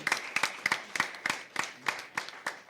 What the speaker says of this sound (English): Please, a round of applause for our panel of judges.